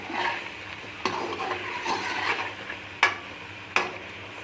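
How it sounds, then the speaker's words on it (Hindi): Masala frying in a karahi for chicken karahi, a soft steady sizzle broken by several sharp scrapes and clinks as a spoon stirs the pan, close and fairly quiet. "ये देखें हमारा यहाँ वो मसाला भुन रहा है।"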